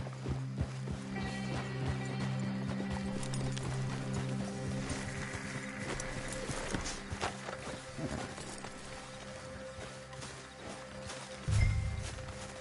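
Horses walking in Red Dead Redemption 2, with a steady, moderately near clip-clop of hooves over ambient game sound.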